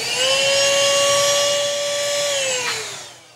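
An XREXS portable handheld car vacuum cleaner runs with a loud, steady high-pitched motor whine that holds evenly, then winds down as it switches off, heard close and alone.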